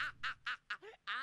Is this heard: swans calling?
yes